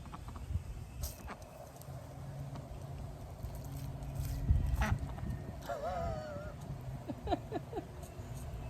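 Ducks quack a few times at moderate distance while being sprayed with water, over a low background of splashing and rustling.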